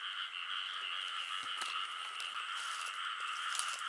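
Steady, pulsing croaks from a frog hooked on a fishing line beside a tree trunk in a field, continuous and fairly close, with a few soft knocks and rustles in between.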